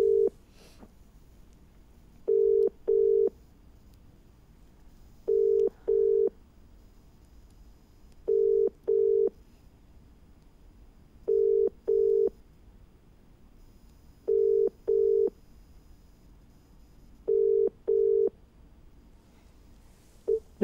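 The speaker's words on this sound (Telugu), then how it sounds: "ఒక నిమిషం మేము కూడా కాల్ కలుపుతున్నాము" A telephone ringback tone while a call connects: paired beeps repeat at a steady rhythm of about every three seconds, seven times in a row, clear and alone over faint line hiss.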